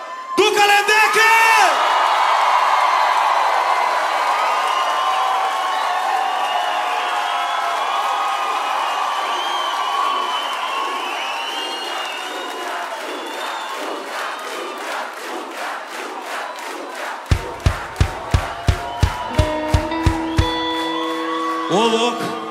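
A live concert crowd at a show cheers, whoops and shouts loudly for a guest, a sustained roar that fades slowly, followed near the end by a burst of sharp rhythmic claps.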